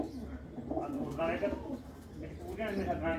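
Pigeons in a Punjabi village loft coo softly and repeatedly at a fair distance while someone speaks close by.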